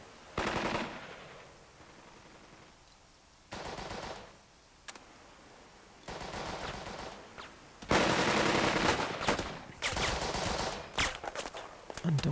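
Bursts of automatic gunfire from the World War II strategy game Burden of Command, heard as several separate volleys of rapid shots with short quiet gaps, growing heavier and denser toward the end.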